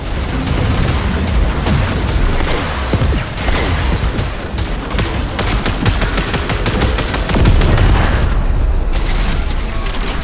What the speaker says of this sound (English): Torpedoes locked. Target in range. Firing.